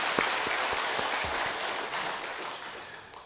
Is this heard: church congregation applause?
yes